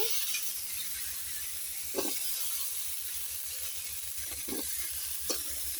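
Vegetables being fried with sautéed spices in a pan, a constant hissing sizzle with a steady low hum beneath and a few scattered knocks of the stirring spoon, close and even, with no voices.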